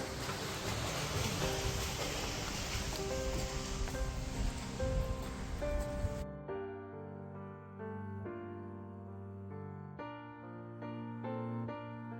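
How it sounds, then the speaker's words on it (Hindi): Heavy rain pours at a hillside stay near Kasauli, Solan, a dense, steady hissing roar lasting about six seconds before it cuts abruptly to music. "बारिश बहुत तेज आती हुई"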